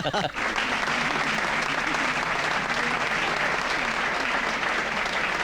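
Loud, dense applause from an audience fills a movie comedy scene, a continuous wash of clapping from start to finish.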